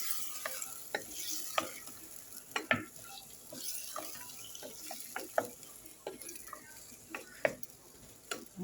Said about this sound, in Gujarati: હવે આપણે બટેટા એડ કરી દઈશું. આ બધાને મિક્સ કરી લેશું.